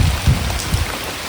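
Rain pours outdoors in a village beside a drumstick plant, a loud, close, constant wash of drops hitting surfaces with a few heavier splats, and nobody talks.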